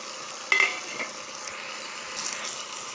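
Chopped tomatoes hitting hot oil in a pan while cooking a tomato and peanut pachadi: a soft, steady sizzle with a brief clatter at the moment they go in, close and fairly quiet.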